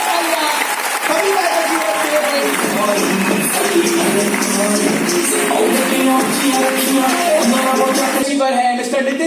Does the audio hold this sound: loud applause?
yes